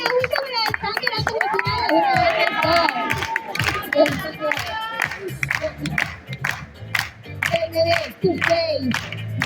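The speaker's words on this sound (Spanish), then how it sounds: "Aplausos a Mokka Mirror." An audience applauds and cheers for a performer at a ballroom kiki session: bursts of clapping and shouts rise and fall throughout, with voices calling out over the crowd.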